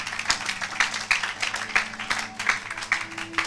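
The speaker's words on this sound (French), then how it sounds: "Acclamons pour la gloire de notre Dieu." Congregation clapping together during a Sunday church service, a steady broadband patter of many hands with a few sharper claps, moderately near, with faint murmuring voices underneath.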